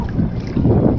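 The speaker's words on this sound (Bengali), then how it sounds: "এই যে ট্রলার গুলা এপার থেকে ওই পারে যাত্রী পারাপার করছে।" A passenger trawler crosses the Padma river near Faridpur, its engine a low, steady rumble heard up close beneath heavy wind buffeting the microphone.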